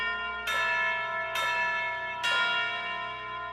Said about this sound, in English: And that's going to be the chimes.